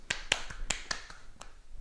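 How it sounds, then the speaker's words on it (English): Several sharp, isolated hand claps at a home primary-school tennis lesson during a bounce-and-catch ball drill, quick irregular claps close by in a quiet room. "we're going to do our claps again with our ball"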